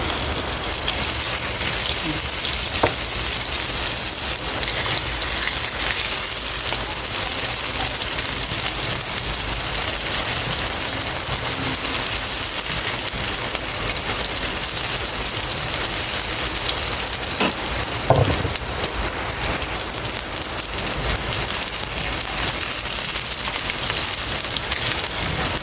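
Onions fry in a pan while squid adobo in coconut milk is being cooked, giving a loud, steady sizzle that stays constant throughout, like heavy rain, with no talking over it.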